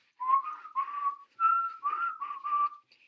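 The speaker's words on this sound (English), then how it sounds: "whistling as she goes" A lone person whistles a bouncy, cheerful melody in short phrases, clear and close, with no talking.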